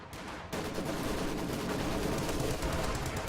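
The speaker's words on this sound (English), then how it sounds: "Some sort of artillery going out on these riflemen" Artillery fires on riflemen in Company of Heroes, a dense, continuous roar of battle gunfire and blasts that begins abruptly and holds steady throughout.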